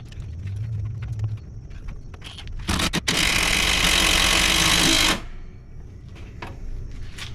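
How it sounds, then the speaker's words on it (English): A power drill drives a self-tapping screw through a mounting hole into the frame of a 2015 EZ-GO TXT 48V golf cart, giving a loud, close whirring burst of about two seconds between quieter handling noises. "take our self-tapper and go right through one of our mounting holes right into the frame of the golf cart here"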